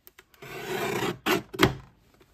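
A paper cutter slicing a 1.5 inch strip from paper stock for papercraft slides, heard as a close, scraping swipe of the blade followed by two shorter rasping strokes.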